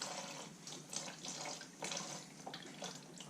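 Antifreeze coolant draining from a Kawasaki Ninja motorcycle into a drain pan, a faint trickling and splashing stream with uneven little surges, quiet and close, with no one talking.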